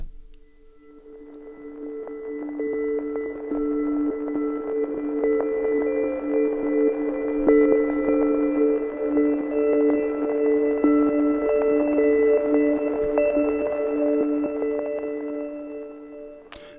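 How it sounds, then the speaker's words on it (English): Rainfall Bells sample from an Omnisphere lo-fi granular texture preset rings as a sustained, glassy bell tone with shimmering harmonics and faint percussive ticks, swelling in and tapering off over about seventeen seconds without talk. "layer A starts with a sample called Rainfall Bells"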